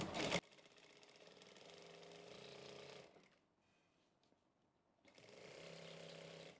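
A sewing machine stitches a long seam joining panels of a Haryanvi daman skirt, running steadily for about three seconds, pausing briefly, then starting up again alone.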